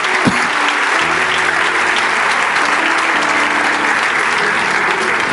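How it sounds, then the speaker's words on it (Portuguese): A church congregation at a Sunday evening service applauds, sustained loud clapping spread through a large room, dense and even from start to finish, with a faint low hum beneath. "Você pode aplaudir o Senhor por essa glória inefável."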